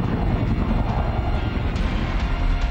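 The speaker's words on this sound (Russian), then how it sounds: "А вертолет К-27" Kamov Ka-27 naval helicopter in flight, a steady loud broadband rotor and turbine roar filling the whole clip without pause, with faint rhythmic blade pulses riding on top.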